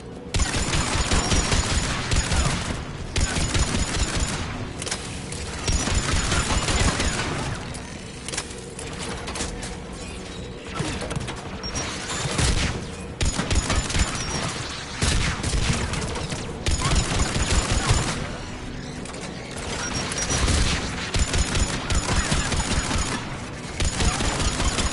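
Anti-aircraft guns in the Mass Effect 3 video game fire in repeated loud bursts of rapid booming shots, with short pauses between volleys and mechanical background noise.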